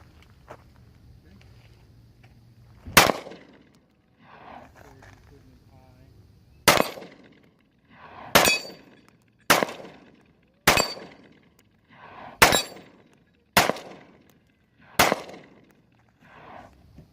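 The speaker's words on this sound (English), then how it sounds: "It's the SIG Sauer P229. I'm gonna light it up." SIG Sauer P229 pistol fired outdoors in eight sharp, loud cracks spaced a second or two apart, each trailing off into a brief echo, with faint background noise between shots.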